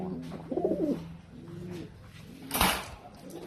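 Pigeons cooing in a loft, soft low throaty coos repeating close by, followed by a brief burst of wing flapping or rustle, with a faint voice under the birds.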